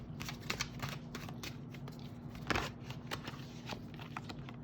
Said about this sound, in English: Why am I so bad at shuffling today?